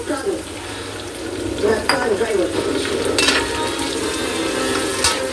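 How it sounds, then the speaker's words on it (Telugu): Half a cup of chopped onions fries in a pan over an already crackled tempering, giving a steady close sizzle with intermittent stirring scrapes and clinks from a spoon against the pan. "ఇప్పుడు ఇందులో కట్ చేసుకున్న 1/2 కప్పు ఉల్లిపాయలు వేసుకుంటున్నాను."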